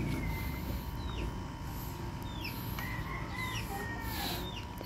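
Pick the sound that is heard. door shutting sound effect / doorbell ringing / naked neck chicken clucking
naked neck chicken clucking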